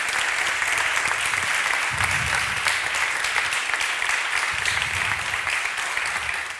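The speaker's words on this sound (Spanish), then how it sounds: "Un aplauso para ellos." A seated audience at a talk applauds steadily and densely, a continuous wash of many hands clapping without pause for the whole stretch, fading slightly at the very end.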